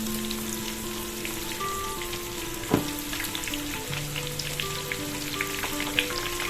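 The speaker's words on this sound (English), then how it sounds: "We'll deep fry each calamari ring, and since they are small baby squids, they are not going to take longer to cook." Small baby squid calamari rings bubbling in deep oil, a dense, even crackling sizzle like steady rain, close and continuous, with a faint hum and one sharp tap partway through.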